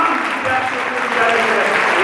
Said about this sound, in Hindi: जोरदार तालियां डॉक्टर राजेंद्र चौधरी जी।